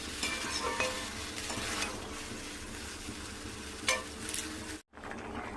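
Paneer sizzles and is stirred in a frying pan, a steady close crackle of frying with scraping stir strokes throughout, a brief sharper clatter near the end and a short silent gap just before it closes.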